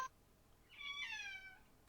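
A pet cat meows close to the microphone, one drawn-out, clear meow rising out of a quiet room, with no talking.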